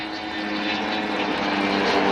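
Two RV8 light propeller aircraft fly in formation alongside an Avro Vulcan B Mk2 at an RAF Cosford air show, giving a steady, loud, buzzing propeller drone with no breaks.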